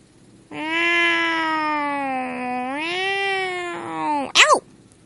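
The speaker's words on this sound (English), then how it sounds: "Oh, stupid cat." A cat gives one long, drawn-out meow, rising and falling, followed by a short, sharp chirping mew at the end.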